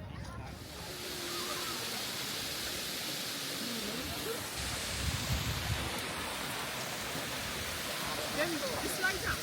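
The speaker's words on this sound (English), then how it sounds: "look at those waterfalls down there" Waterfalls at Lake Oeschinensee in Switzerland make a faint, distant, steady rushing hiss that carries through the whole stretch.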